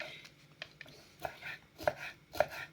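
Knife chopping young green onions on a board in a home kitchen, a few sharp separate cuts growing louder toward the end, with faint kitchen background and no talk.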